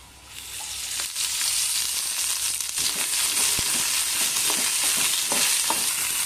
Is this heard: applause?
no